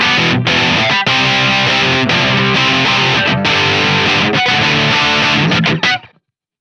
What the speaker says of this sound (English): And then finally I'll let you hear the humbucker.